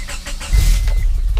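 A turbocharged Honda Prelude's engine cranks and catches within a second, then settles into a loud, close, rough idle.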